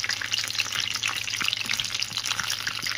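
Green chillies sizzle and fry in a pan for a tomato roti chutney, a steady close crackle with faint stirring scrapes and no talk.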